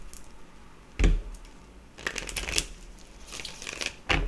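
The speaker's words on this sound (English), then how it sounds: "Let's give it another shuffle, spirit side." A deck of tarot cards is shuffled close up in several quick riffling bursts, crisp papery flutters separated by short pauses and soft handling noise.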